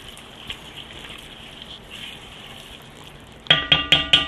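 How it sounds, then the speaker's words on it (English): A pot of pork roast with leftover sauce simmers with a soft, steady sizzle, then a spoon stirs it in four or five loud, close scraping strokes near the end. "I'm going to give this a stir"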